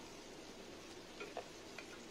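Potatoes frying in a pan with a steady soft sizzle, broken by a few brief scraping stirs near the middle and end.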